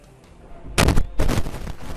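Gunfire in the video game Darkest Dungeon rings out in two loud, sharp bursts close together, with the second followed by a rattling tail.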